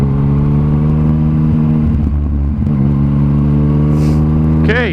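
Yamaha MT-09 motorcycle with a Black Widow 200mm titanium exhaust holding a loud, steady, buzzy engine drone close by, then rising sharply into a hard rev near the end.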